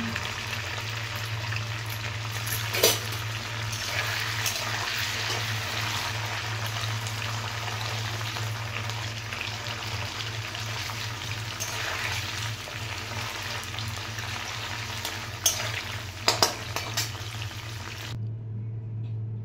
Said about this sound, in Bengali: एबार पनीरगुलो भेजे तुले नेब। खूब बेशी भाजबो ना, हालका भाजबो।